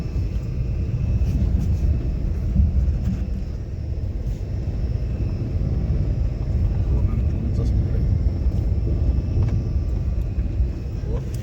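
A car creeps along at very low speed on a rough, rain-soaked road to a lighthouse, its engine a low continuous rumble with occasional knocks, while people talk over it.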